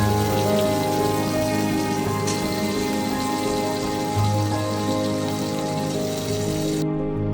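Onion and garlic fry in hot oil for fried rice and chilli chicken, giving a loud, dense, continuous sizzle and crackle close by, with a brief clatter near the end.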